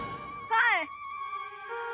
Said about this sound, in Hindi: ये एक चेतावनी यंत्र की आवाज है जो तुम्हारे सिर पर बज रहा है।